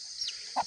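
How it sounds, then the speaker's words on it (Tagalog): A few short clucks from chickens on a farm, close by, with brief quiet gaps between them and no talking. "nandyan na yung ating mga Muscovy ducks, yung ating mga manok"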